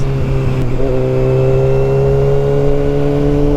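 Kawasaki Ninja 636 sportbike accelerating hard from 0 to 60 on a highway, a loud, steady engine roar with rising harmonic tones held close and continuous throughout, no talking over it.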